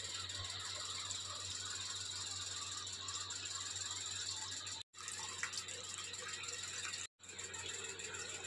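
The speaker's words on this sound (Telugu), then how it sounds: "ఇదైతే పెద్దదన్నమాట, వాటర్ ఫౌంటైన్." A large water fountain runs as a steady, broadband splashing rush close by, continuous apart from two brief cutouts, with a low hum underneath.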